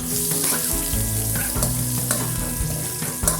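Sliced onion dropped into hot oil in a heated pan for beef caldereta, giving a loud, close, continuous sizzle with crackling bursts and spatter throughout.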